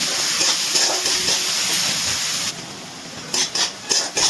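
Sliced onions fry in hot oil at home while being stirred, a steady close sizzling hiss that drops away partway through, followed by brief bursts of sizzle and stirring.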